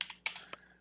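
Several quick keystrokes on a computer keyboard, a short burst of close, light clicks with brief gaps between them, heard alone and fairly quiet.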